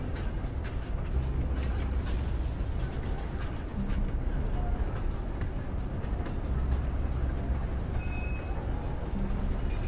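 A train rumbles steadily past in Red Dead Online, a continuous low mechanical roar that holds through the whole stretch at moderate distance.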